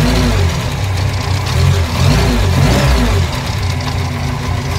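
A car engine runs close by and loud, revving up and settling in rough, rumbling surges during a vinegar cooling-system flush, with no talking.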